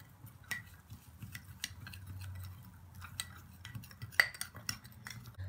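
A spoon stirs a paste of olive oil and other ingredients in a small bowl for a neck-whitening skin remedy. Quick clinks and scrapes repeat against the bowl at close range, fairly faint, with no speech.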